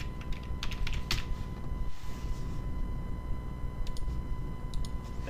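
Typing on a computer keyboard while setting up an online store, with close, irregular key clicks in short bursts and pauses, no speech.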